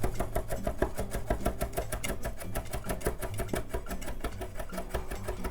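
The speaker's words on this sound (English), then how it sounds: "Take the side of your knife. Give it a good crush. And then you mince through." Rapid, even knife strokes mince crushed aromatics on a cutting board for orange chicken, a fast steady train of close, crisp chops with no pause and no talking.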